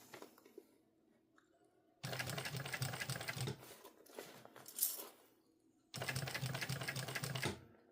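A sewing machine stitches a mini backpack in two loud, steady bursts of rapid clatter, separated by quieter handling and shifting of the fabric.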